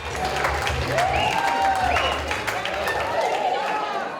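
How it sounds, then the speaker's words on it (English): Wedding reception guests applaud amid crowd chatter and a whoop, while music with a singing voice plays over the room; clapping is steady but partly masked by the song and voices. "let's give them a round of applause, ladies and gentlemen"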